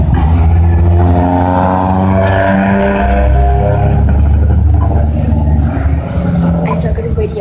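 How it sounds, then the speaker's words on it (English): Two Ford Escort rally cars roar past at a rally stage, engines revving hard and loud close by, with a sustained throaty drone and a brief skid, while people talk over it. "Look, two escorts, two best cars in the world."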